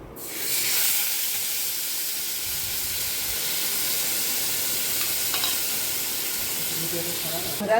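Onion paste and garlic paste hit hot oil in a pan of frying taro stolons, giving a loud, continuous, close-up sizzle and hiss that holds steady for several seconds.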